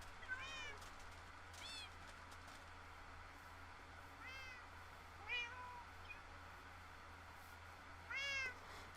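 Several clear, moderately faint meows from a Minecraft cat, a few short calls spread across the stretch over a steady low background hum, with no talking.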